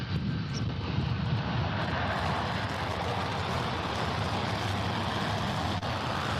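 An airplane taking off, a steady, loud roar of jet engines holding throughout with broad rumbling noise and no talking.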